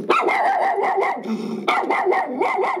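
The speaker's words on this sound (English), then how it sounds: "Play the authentic miniature schnauzer." A miniature schnauzer barks rapidly and repeatedly, close and loud, in sharp yappy bursts with a brief growly pause between them, recorded as a film sound effect.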